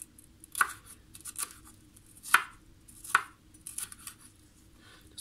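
A knife cutting food while cooking outdoors by a fireplace in Ireland: several crisp, separate cutting clicks spaced about a second apart, close and fairly quiet over a low background hum, with no talk.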